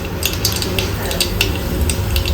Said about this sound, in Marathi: तेल गरम झाले आहे राय घालायची थोडीशी